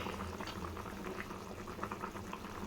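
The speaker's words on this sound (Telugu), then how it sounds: "మన పప్పు ఉడికిపోయిందండి" Masoor dal cooked with ridge gourd bubbles steadily in a pot, a soft continuous simmering burble heard close and without talk.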